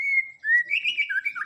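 A clear, close white-rumped shama sings alone: a long pure whistled note followed by a rapid run of warbling, sliding phrases.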